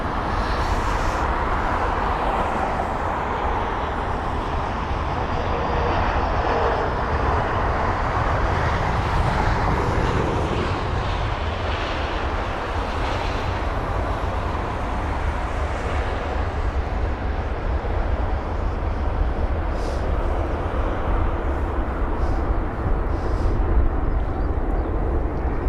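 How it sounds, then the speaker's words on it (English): Airbus A319 jet thundering down the runway at London Heathrow, a steady loud broadband engine roar that holds nearly level for the whole stretch with no voices. "The A320, or sorry, 19 it was, racing down the runway."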